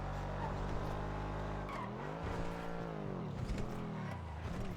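Video game car engine droning loud and steady with tire squeal and skidding, pitch rising and falling as the car races through a police roleplay drive, with a voice talking quietly underneath.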